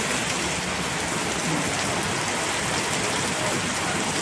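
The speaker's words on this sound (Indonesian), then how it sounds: "Hujan semakin deras." Heavy rain pours at the Jakarta–Bandung high-speed rail construction site. A loud, dense, unbroken hiss of downpour fills the whole clip with no pauses.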